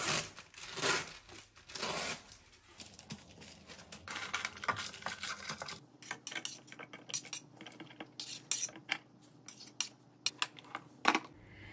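Cookies being dropped into a spare container while a fridge is cleaned and organised, giving clinks and light clatters of plastic and packaging in quick uneven bursts, close and fairly quiet, with no talking.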